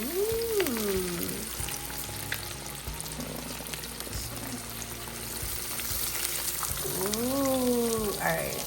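Fish frying in a pan of oil, a steady close sizzle running throughout, with a voice speaking over it at the start and near the end.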